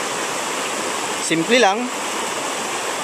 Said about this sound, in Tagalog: Sapa lang, batis, maliit na batis lang.